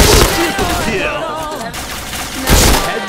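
Rapid bursts of gunfire in the game Point Blank, loud and clustered at the start and again near the end, mixed with whooshing game effects.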